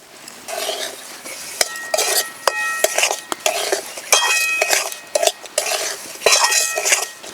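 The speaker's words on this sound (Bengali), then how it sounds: "কাজু কিশমিশের সঙ্গে সুজি দিয়ে একটুখানি নাড়াচাড়া করে নিলাম" Semolina being stirred with cashews and raisins in a pan for lychee halwa, a spoon scraping and clinking against the metal in repeated close strokes with brief sharp knocks, over a faint sizzle.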